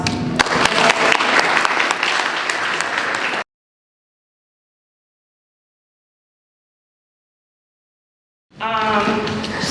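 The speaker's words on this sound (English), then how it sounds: "So, quick round of applause." An audience at a public forum on water resources in Nelson County claps in a dense burst of applause that cuts off abruptly, then after a silent gap resumes with a voice over it.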